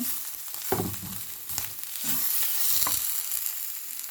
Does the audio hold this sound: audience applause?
no